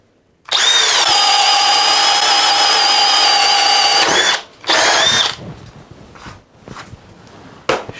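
A Hercules brushless hammer drill in drilling mode bores with an 11/16 spade bit, whining loud and steady for about four seconds, then a short second burst, followed by faint handling clatter.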